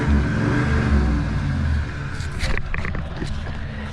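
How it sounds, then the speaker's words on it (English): A 4WD car's engine revs hard while its front right wheel spins, a loud rising drone that drops off partway, followed by rougher whirring and scrabbling noises; brief voices may be heard. "That front right wheel spinning."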